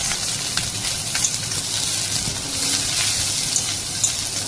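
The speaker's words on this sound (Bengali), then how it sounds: "এখন সবজিগুলো দেখো দিয়ে দিলাম, আবারও ভালোভাবে একসাথে নেড়ে নেব" Leftover rice frying with vegetables stirred in, a loud hissing sizzle running steadily with occasional clacking spatula strikes against the pan, close up and with no one talking.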